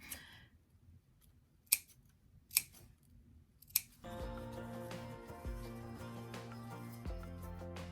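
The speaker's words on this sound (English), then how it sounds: "all we're going to do is clip in towards this seam allowance and trim it up a little bit" Scissors make three crisp, close snips while clipping and trimming the seam allowance on a sewn doll coat sleeve. Music then starts and fills the rest.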